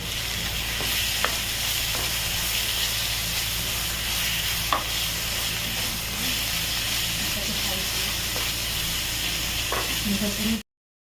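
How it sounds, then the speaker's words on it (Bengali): Garlic and green chili paste with spices frying in a pan during mutton biryani cooking, a steady broadband sizzle with occasional soft clicks of stirring throughout, close and loud, ending abruptly in silence. "রসুন কাঁচা লঙ্কা বাটা যেটা বেটেছিলাম না ওটা দিয়ে দেবো দিয়ে একটু কষাবো অল্প একটু ভেজে নেব"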